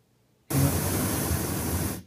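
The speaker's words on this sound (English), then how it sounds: "starting first is the pink noise generator" Steady broadband pink noise starts abruptly, holds at an even level for about a second and a half, then cuts off.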